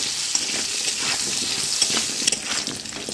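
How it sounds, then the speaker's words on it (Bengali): Potatoes seasoned with salt and turmeric sizzle steadily in hot oil for a village-style cauliflower and shrimp dish, with a spoon scraping and turning them in a few clear strokes, close and fairly loud. "এবার ভালো করে নেড়ে নিচ্ছি।"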